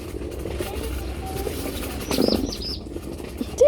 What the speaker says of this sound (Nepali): चराहरू नि कस्तो मजाले साउन्ड गर्दैछ नि के नि कराउँदैछ नि है